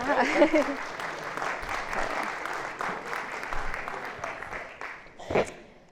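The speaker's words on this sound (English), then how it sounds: "right, applause." Applause from an audience, a steady dense patter of clapping that tapers slightly, with a brief louder burst near the end.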